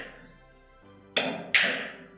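Billiard balls struck during a three-cushion carom shot: two sharp, close clicks about half a second apart, each ringing briefly, after a soft spoken lead-in.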